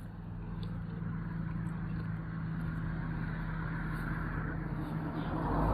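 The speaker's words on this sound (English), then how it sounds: "Got a lot of traffic and stuff." Road traffic passing on a walk, a steady low rumble of vehicles with a continuous engine hum, slowly growing louder toward the end as a car approaches.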